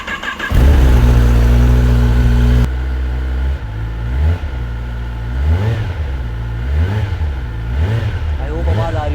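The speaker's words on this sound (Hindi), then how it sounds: "एक बार स्टार्ट करके दिखाइए बाइक को, इसका स्टॉक एग्जॉस्ट के आप नोट सुनिए।" A 2023 Kawasaki ZX10R sport motorcycle's stock exhaust starts with a loud burst, settles into a steady idle, then revs up and down several times, close by.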